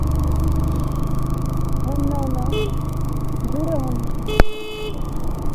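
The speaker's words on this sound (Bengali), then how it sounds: "আমি জোরে জোরে হর্ন দিচ্ছিলাম" A motorcycle horn gives a short honk amid traffic and engine noise on a road in Odisha, with people talking nearby.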